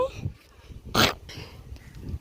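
A dog gives a short rough throaty sound, close by, amid low background noise and faint voices.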